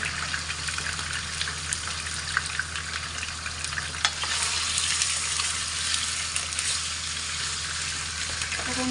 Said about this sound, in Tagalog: Medyo i-fry lang natin siya konti bago natin igisa.